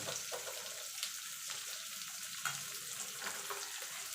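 Chopped onion frying in a pan while cooking a Bengali spinach and fish-head chochchori, a steady broadband sizzle that keeps a constant level with small crackles throughout and no voices.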